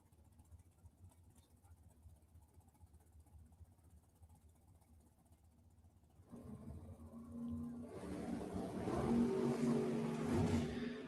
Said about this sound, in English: Dragster on Dragster action